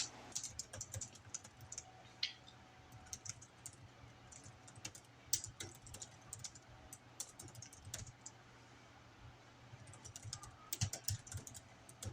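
Typing on a computer keyboard during writing, a quiet steady patter of key clicks in irregular bursts with short pauses, close and alone.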